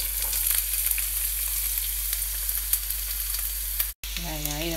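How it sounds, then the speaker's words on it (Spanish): Chopped onion sizzling in olive oil in a pan, a steady dense hiss and crackle throughout, close up, with a short dropout and a faint wavering tone near the end. "echamos un poquito de aceite de oliva y sofreímos la cebolla"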